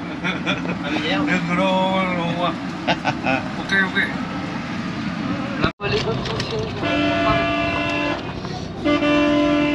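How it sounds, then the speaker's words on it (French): Vehicle horns toot during overnight road travel in Vietnam, with sustained honks layered under steady engine rumble and people talking nearby. "Ça klaxonne toute la nuit, toute la nuit."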